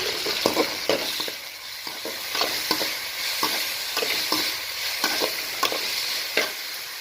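Boiled broccoli frying with onions in a pan, a continuous sizzle under rhythmic spatula scrapes and taps against the pan, close and even, with no talking.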